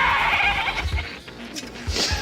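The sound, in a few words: goats bleating during Marvel film shoot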